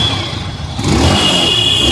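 A Yamaha R15 V4 motorcycle engine running at idle, then throttle blipped into a louder, rising rev with a steady exhaust drone, close and alone.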